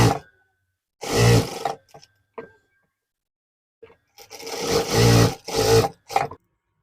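A sewing machine stitches the center of a blouse in several loud, buzzy bursts, one near the start and a cluster toward the end, separated by silence and a few small clicks.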